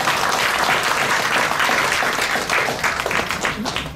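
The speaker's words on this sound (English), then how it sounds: "You can give the Congressman a round of applause." Dense, steady applause from a crowd at a community farewell reception for a retiring congressman fills the room, loud and continuous throughout.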